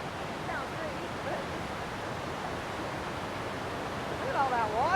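Rushing water of the Niagara River near Niagara Falls makes a broad, continuous roar close by, with voices talking faintly over it.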